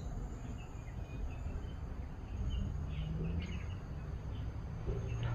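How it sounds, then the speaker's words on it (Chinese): Faint, distant birds call sporadically over a soft bed of insect hum along a mangrove walk in Admiralty Park, Singapore, with no talking. "不知道大家有没有听到这里的鸟叫？"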